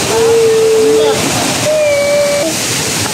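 Tinuy-an Falls in Bislig, Surigao del Sur, roaring as a loud, steady wash of falling water, with faint whistle-like tones drifting above it.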